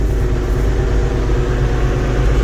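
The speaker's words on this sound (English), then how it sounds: "Got the old Perkins engine in it." An old Perkins engine held at about 1000 RPM gives a close, steady low rumble with an even mechanical pulse throughout.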